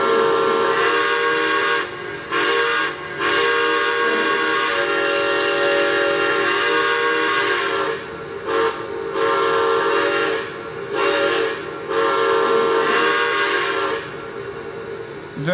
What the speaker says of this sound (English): This is the whistle it comes with, which is, I'm pretty sure, a Santa Fe 5 chime.